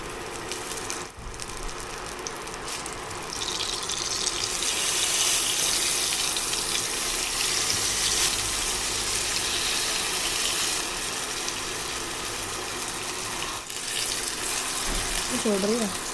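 Fish tikka pieces sizzle loudly in hot oil, a steady broad hiss that swells after a few seconds and holds for a long stretch, with faint clinks and a voice briefly audible near the end.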